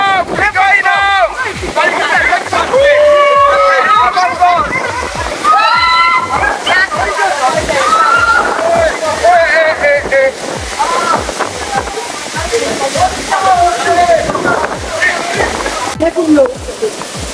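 Rushing water at a waterfall at Erin Ijesa in Osun State, Nigeria, splashes steadily throughout while several people talk and shout excitedly over it, the water a constant loud wash beneath the voices.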